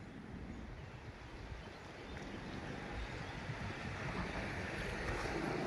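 The flooded Moj river pours past the overflowing Moj dam as a continuous loud roar of rushing water, heard from a bridge, steady and building slightly with wind-like broadband noise.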